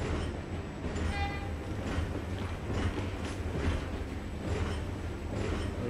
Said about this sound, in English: Train's back. Is this a new train?